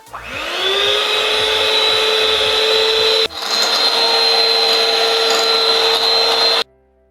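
An electric mixer whips egg whites at high speed while hot sugar syrup is poured in, a loud continuous whine that stops briefly, resumes, then cuts out near the end.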